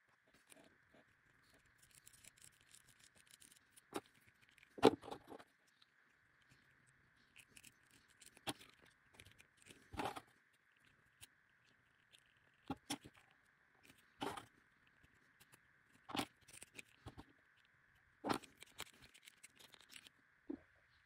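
An action figure cape, for a DC Multiverse Superman figure, being cut, heard as quiet, sparse snips and scratchy cutting bursts spaced a few seconds apart over a faint steady hum.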